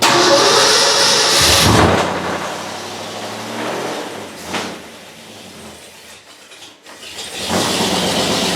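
A 1968 GMC truck with its old engine turning over after the gas is pumped: a loud close whir and mechanical grind, a pause with a brief knock, then the engine catching into a rough, steady roaring run.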